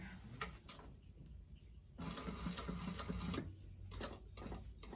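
A sewing machine stitches a convertible backpack in bursts, pausing briefly for pivots at corners, its steady mechanical whir running close and loud between short stops.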